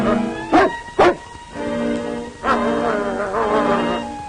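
A dog barks twice sharply up close, then follows with longer whining yelps, in an outdoor Yukon wilderness scene.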